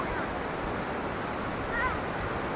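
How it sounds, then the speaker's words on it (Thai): Steady broadband rushing of a waterfall at Tat Ton National Park, Chaiyaphum, Thailand, fills the scene, a continuous roar without pauses, with a brief faint bird-like chirp partway through. "ก็เป็นฝั่งที่น้ำตกนะคะ"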